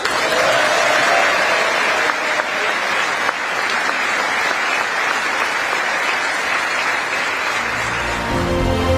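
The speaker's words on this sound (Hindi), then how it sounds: "पीएम मोदी के संबोधन के दौरान अमेरिकी संसद में तालियों का दौर जारी रहा" Sustained applause from lawmakers fills the US Congress during PM Modi's address. The clapping is loud and dense and continues for several seconds, then thins out near the end.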